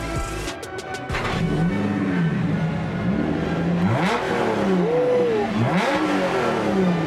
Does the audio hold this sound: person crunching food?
no